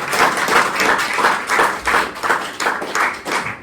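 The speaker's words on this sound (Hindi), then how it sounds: "उसके लिए भी जोरदार तालियां हो जाएंगी।" A staff group at a fire safety training centre claps for a colleague's birthday, loud rhythmic applause swelling in regular pulses close by, with a faint voice in the background.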